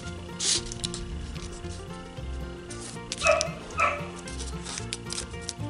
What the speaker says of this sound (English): Yeah, that was my dog.